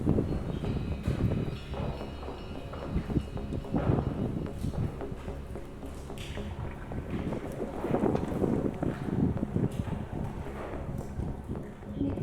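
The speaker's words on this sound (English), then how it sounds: "As the wind battered the seaside structure" Strong wind buffets a seaside abandoned power station at Ardeer Explosives Works in Scotland, a steady roar with gusty surges and rumbling microphone noise throughout.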